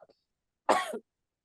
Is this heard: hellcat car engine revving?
no